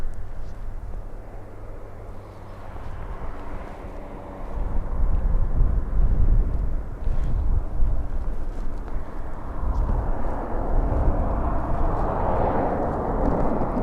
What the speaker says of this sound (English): Another ATR next, in from Edinburgh.